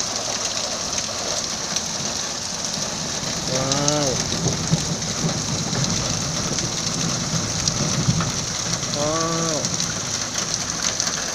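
Hail falling in Riyadh makes a dense, steady hiss and patter that runs unbroken throughout, with brief voices rising over it twice.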